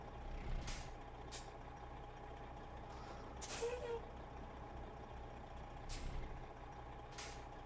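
Hissing air-brake bursts and a truck engine idling in American Truck Simulator, with a few sharp releases spaced across the scene and a steady low rumble beneath, plus faint reversing beeps during a tight backing maneuver.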